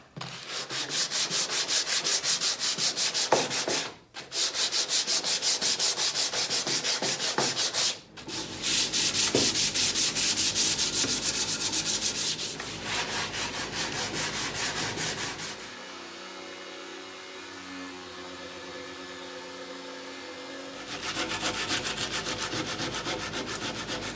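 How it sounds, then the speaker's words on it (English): Steady abrasive rasping of sandpaper, about 150 grit, worked by hand back and forth over grooves in a wooden table, continuous and close, with brief pauses and a softer, duller stretch near the end. "lots of sanding"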